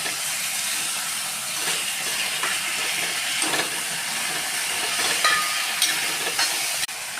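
Onion, green chilli and mutton liver sizzle in a hot frying pan while being stirred, a steady close hiss broken by occasional scraping clicks of the spoon.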